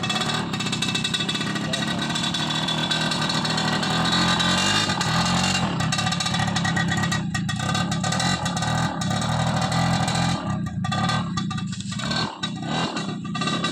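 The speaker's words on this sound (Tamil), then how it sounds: "வண்டி ஸ்டார்ட் பண்ணுறேன் பார்த்துங்க" A 2010 TVS XL Heavy Duty moped engine runs at a steady idle nearby, with a few short dips and sputters toward the end.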